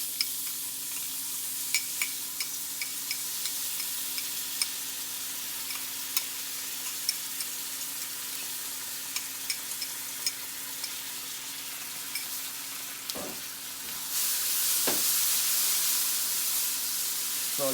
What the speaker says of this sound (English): let the ginger garlic paste cook a little bit, just about a minute